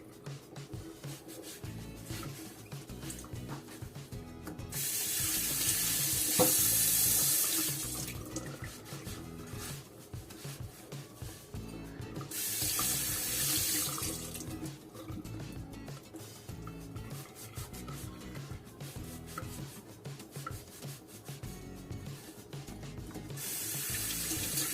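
Tap water runs into a sink for soaking vegetables, a steady wash of flow with three louder, fuller bursts as the stream strengthens, heard alone without talk.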